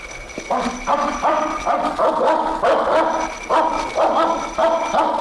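A dog barks repeatedly in quick, uneven bursts, close and loud, with no talking.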